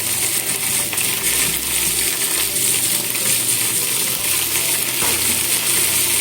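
Paprika and cabbage stir-frying in a pan, a steady close sizzle with scraping and clinking of utensils against the pan throughout, no voices.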